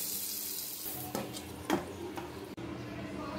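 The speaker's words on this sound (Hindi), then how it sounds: "अब हम इसका तड़का डालेंगे।" A tadka of red chilli, asafoetida and green chilli sizzles in hot oil for kadhi, a steady close frying hiss with a few sharp clinks of stirring.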